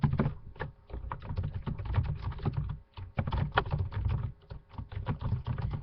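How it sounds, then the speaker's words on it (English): Fast typing on a computer keyboard: close, dense bursts of clicky keystrokes broken by a few brief pauses, with no one talking. "And I need to type that in."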